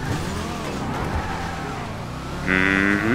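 Two video game cars, a Gauntlet Hellfire and a Banshee 900R, rev and accelerate side by side in a drag race, with engines droning loudly and rising sharply into a high, strained howl near the end.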